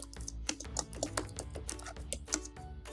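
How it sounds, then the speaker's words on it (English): Fast keystrokes on a computer keyboard, a quick irregular run of crisp clicks and taps, close and clear. "So now I can type"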